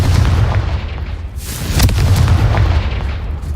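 A Confringo fire-blast spell goes off in Hogwarts Legacy as a loud, sustained booming explosion with heavy low rumble, a sharp burst near the middle, then a long rolling tail, with no voices.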